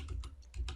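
Several soft keystrokes on a computer keyboard while programming C++, a brief run of quiet, close taps with no talk.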